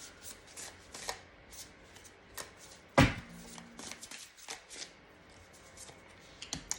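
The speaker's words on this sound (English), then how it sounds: "I love this deck, but it's not sometimes the easiest to shuffle." Tarot deck being shuffled by hand, a steady soft riffle of cards with one sharper slap or knock near the middle, close and fairly quiet with no voices.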